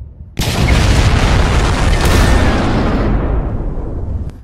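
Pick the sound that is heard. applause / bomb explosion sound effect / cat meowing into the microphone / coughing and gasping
bomb explosion sound effect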